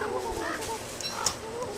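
Turkeys gobbling in the video game Don't Starve, a steady stream of clucking, fowl-like calls at moderate loudness, repeated throughout with brief sharper bursts.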